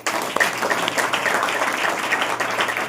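A church congregation claps together once during a Hindi-language worship meeting, producing a brief burst of applause with steady hand claps close by, with no speech over it.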